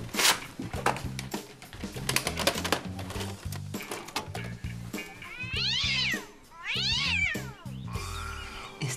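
A cat meows and caterwauls while being flung, with drawn-out rising and falling yowls toward the end over a busy background of clattering, rhythmic noise and music.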